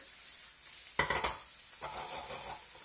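Shrimp seasoned with salt and pepper sizzling in a pan while being tossed, a soft steady fry broken by a quick burst of clattering stirring midway and a quieter scrape after.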